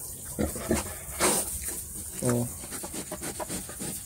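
A native black pig on a farm gives a few short, close grunts mixed with snuffling, while people talk nearby.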